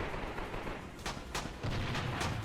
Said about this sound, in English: another good grenade